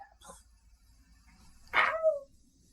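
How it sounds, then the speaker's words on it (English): A dog gives a single short bark or yelp with a brief whine, fairly near and alone over faint background noise in a tabletop game session. "That sounds like a dog."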